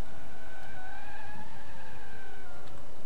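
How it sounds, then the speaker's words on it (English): A Nissan S14 engine revving while drifting through city streets in a video game, a steady droning rev with slowly wavering pitch, moderately loud and continuous throughout. "if I can get a nice drift going"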